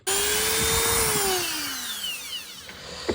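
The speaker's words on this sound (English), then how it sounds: "So instead I've moved to a Dremel and I've put a little snick there and there." Dremel rotary tool cutting a notch in metal for a Toyota MR2 Roadster handbrake cable, a high whine that dips in pitch under load then eases off, with a few clicks near the end, close and loud.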